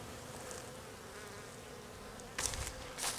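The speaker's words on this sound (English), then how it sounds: "There's a decent amount of bees here." Honey bees buzzing around an open hive, a steady low drone throughout with a few louder close passes near the end.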